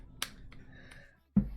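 One sharp finger snap rings out near and loud, followed a moment later by a second snap-like pop made with the mouth, a voice imitating the sound, over a quiet room murmur.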